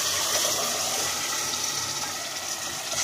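Tomato sauce being poured into a kofta tagine makes a steady, close liquid pour and gush that runs for a few seconds on its own.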